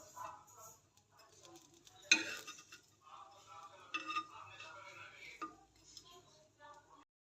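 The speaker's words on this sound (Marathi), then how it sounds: "हे ब्रेडचे तुकडे उलटून घेते मी" Bread pieces turned over while toasting in a pan, with soft scraping and a few clinking utensil taps against the pan over quiet low sizzling, no talking.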